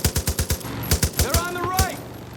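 Rapid automatic gunfire from the game Far Cry New Dawn cracks out in a quick, evenly spaced string of loud shots, then breaks off into a few scattered bursts while a voice speaks over it.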